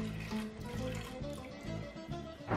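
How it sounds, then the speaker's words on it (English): A kitchen knife rinsed under a running sink tap, with a steady close splashing stream of water that runs throughout the short moment. "I'm just going to rinse off my knife slightly"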